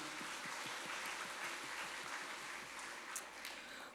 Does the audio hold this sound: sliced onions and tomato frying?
no